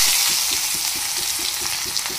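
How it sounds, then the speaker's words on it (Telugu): Cumin and mustard seeds fry in a couple of spoons of hot oil, making a loud, dense, crackling sizzle with rhythmic soft stirring strokes underneath, close by and continuous. "ఆయిల్ కాగింది, జీలకర్ర ఆవాలు వేస్తాము."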